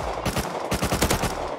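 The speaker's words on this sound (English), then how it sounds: "I'm shooting one." Rapid automatic gunfire from a video game, a dense burst of quick repeated shots in two close volleys, loud and punchy with no speech over it.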